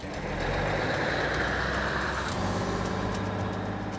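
An old military truck fitted with a crane, its engine running with a steady low rumble, loud and close throughout with no talk.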